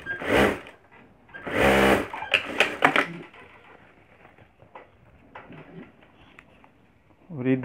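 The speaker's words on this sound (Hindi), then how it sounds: "और उसको ऊपर की साइड सिलाई कर देंगे।" A sewing machine stitches the top side of a handmade bag in a few short whirring bursts separated by pauses, while a person talks between the runs.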